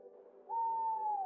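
Owls hooting at dusk: a single long, smooth hoot rises and holds steady, clear and fairly close over a quiet low hum.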